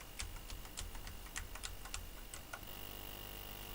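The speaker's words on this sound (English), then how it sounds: "I'm just pressing all the keys literally now" Keys on a computer keyboard are pressed in quick, irregular clicks, about a dozen sharp taps close by, then a pause with only a low hum while playing a ZX Spectrum game.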